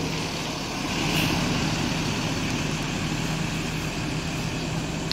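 A bus engine with a loud exhaust on a Sumatran cross-island highway rumbles steadily and close by, a dense, continuous roar with no pauses.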